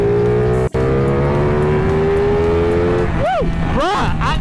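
A Ducati 1199 Panigale sport motorcycle accelerating on a road in third gear, the engine note rising steadily and loud close by, with a brief gearshift gap near the start and rapid pitch sweeps as it passes later.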